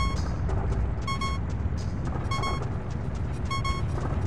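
Video game beeping from Zelda: Ocarina of Time, short repeated electronic tones in clusters over a busy, noisy background.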